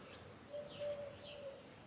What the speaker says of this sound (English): you're gonna potentially hear bird sounds, whether it's regular birds or roosters or peacocks